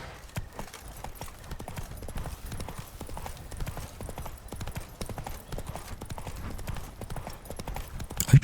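Horse galloping in the video game Witcher 3, rapid rhythmic hoofbeats drumming steadily over ground, close and continuous with light game ambience.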